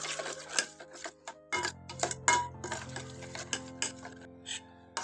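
Spoon stirring yogurt and spice masala together in a bowl while preparing a village-style okra sour curry, heard as light, irregular clinks and scrapes.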